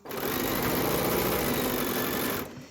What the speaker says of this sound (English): don't sew too fast, because this is a bias edge